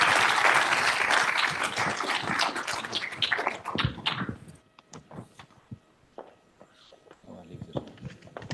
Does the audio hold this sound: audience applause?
yes